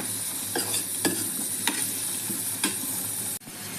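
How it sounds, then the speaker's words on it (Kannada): Malabar spinach leaves stir-fried with black pepper in a pan, a steady sizzle broken by a few spaced spatula scrapes, close and fairly loud. "ಸೊಪ್ಪು ಸ್ವಲ್ಪ ಬಾಡೋವರೆಗೂ ಕೈ ಆಡಿಸ್ಕೋಬೇಕು"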